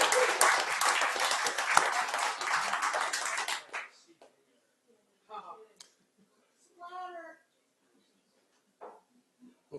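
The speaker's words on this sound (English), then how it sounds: "Let's give him a round of applause." Audience applause at a radio contest club awards meeting, a steady burst of clapping for about four seconds that stops abruptly, followed by quiet room sounds and a few brief bits of speech.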